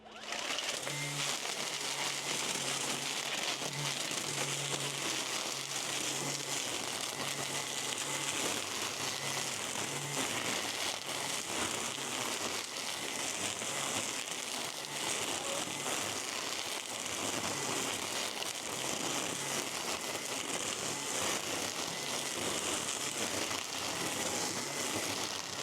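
An Echo battery brush cutter with a high torque gearbox cuts through an overgrown lawn, a steady, loud, close whirring and thrashing of vegetation that runs without a break throughout.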